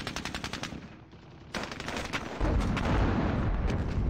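Machine-gun and artillery fire in the war game Squad Battles, rapid bursts of shots rattling in quick succession that build into a louder, denser barrage toward the end.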